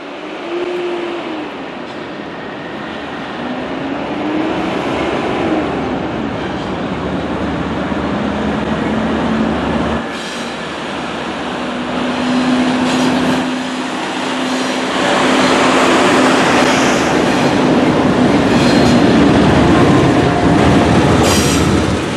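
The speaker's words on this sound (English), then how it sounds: "we see a westbound NS intermodal train going underneath the bridge" A westbound Norfolk Southern intermodal train rolls beneath a downtown footbridge, a loud, steady rumble of rail cars with rhythmic wheel clatter and occasional squeals building over its long passage.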